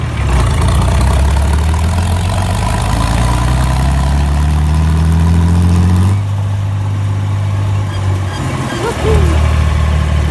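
An IH Farmall 560 tractor engine runs at full throttle in fifth direct on a bumpy dirt road, a loud steady low drone with rising harmonics that drops and eases after about six seconds before surging again.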